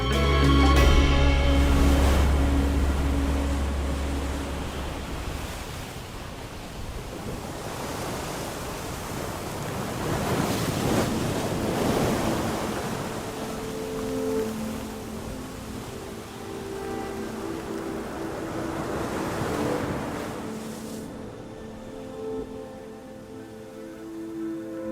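Sea waves breaking on the Mediterranean shore at Alexandria, a steady broadband wash swelling and receding in slow surges, with a soft musical tone running underneath.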